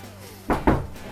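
A broken cupboard door is tugged twice in under a second, two quick close knocks as the stuck door rattles against its frame without opening.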